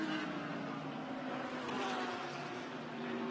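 Yellow Ferrari GT race car on an out lap during qualifying at Fuji, a steady engine drone heard from a distance without a clear pass-by.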